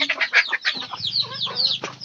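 Young chicken chicks being raised on a farm give repeated high, thin chirps and peeps in quick overlapping bursts, fairly close, with a low steady hum underneath and no talking.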